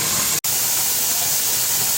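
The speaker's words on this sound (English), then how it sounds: "it is up to a full, steady stream of steam coming out the vent pipe" Steam vents in a full, steady stream from the vent pipe of a pressure canner used for hominy. The hiss is loud and constant, with one very brief break near the start.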